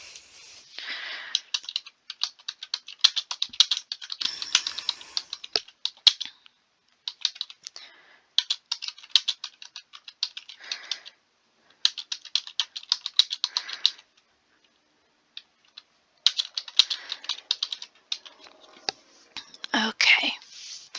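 Quick bursts of clicking keystrokes on a computer keyboard, grouped into short runs with pauses between, close and fairly quiet, alongside soft speech.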